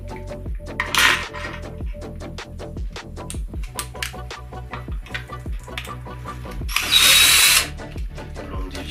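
A power drill unscrews the battery mount parts on an Arrma Outcast 8S RC car, with two loud whirring bursts separated by a stretch of small metal clinks and tool handling close by.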